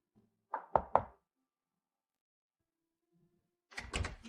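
Three firm knocks sound on a door in a quick cluster, followed by silence and then a short muffled burst of noise.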